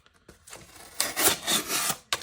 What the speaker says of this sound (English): it's actually cutting through the cardboard pretty good.